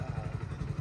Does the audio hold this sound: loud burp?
no